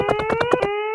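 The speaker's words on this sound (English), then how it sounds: "Suppose you hear that alarm again." A warning alarm sounds close and loud, six rapid pulsed blasts over a sustained electronic tone that then continues steadily on its own.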